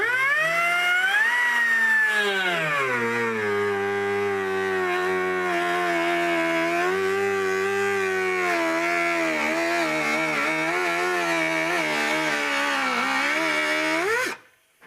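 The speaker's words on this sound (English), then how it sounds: "So we're cutting out that center so that we can weld this guy in." A power tool cuts out a sheet metal floor panel on a Nova, giving a loud, continuous high whine whose pitch shifts under load for about fourteen seconds before stopping abruptly.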